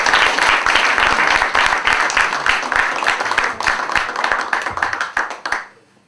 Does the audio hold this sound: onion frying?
no